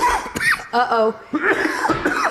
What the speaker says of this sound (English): so we're all coughing